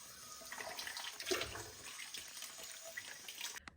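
Cold water runs from a tap as clothes are washed in a Kashmir village, a continuous gushing splash with brief louder surges, fairly quiet and with no speech.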